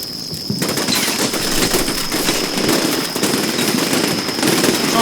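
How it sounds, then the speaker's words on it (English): Sustained gunfight in the game Combat Mission Shock Force 2, with US Army troops assaulting a Syrian police station: dense, continuous crackle of rifle and machine-gun fire, steady and fairly loud throughout, with scattered sharper bursts. "We just have to keep the gunfight going"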